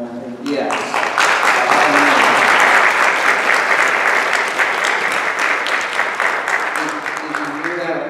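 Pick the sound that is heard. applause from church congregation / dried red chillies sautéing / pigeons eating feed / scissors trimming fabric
applause from church congregation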